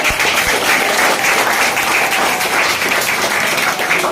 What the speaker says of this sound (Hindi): तो एक महिलाओं के लिए जोरदार ताली हो